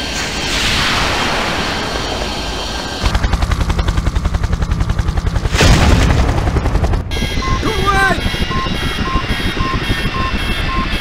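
A missile strikes a helicopter in the video game Project I.G.I., with rapid rotor chopping, a loud burst of impact noise and then alarm beeping inside the cabin, all close and loud.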